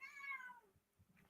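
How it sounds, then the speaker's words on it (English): A single cat meows once nearby, a short rising-then-falling call, followed by faint low background noise. "So the kitty decided to join the show today."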